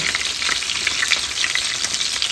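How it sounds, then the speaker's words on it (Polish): Minced pork cutlets fry in a pan with a loud, steady, dense sizzle and crackle, close and continuous with no speech. "Tak do 5-6 minut musimy jednak smażyć na jednej stronie."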